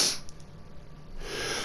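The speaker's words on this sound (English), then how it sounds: "Hold on, I gotta sneeze." A person sneezes up close: a sharp airy burst, a brief quiet, then a second breathy outburst, with no speech.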